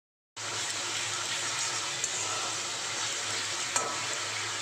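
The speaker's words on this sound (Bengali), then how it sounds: "আর এখানে আমি ঘুগনির জন্য মশলাটা কষে নিচ্ছি" Vegetarian spice paste of ginger, cumin and tomato paste with whole cumin fries in a kadai for ghugni, giving a steady close sizzle with occasional stirring scrapes and no talking.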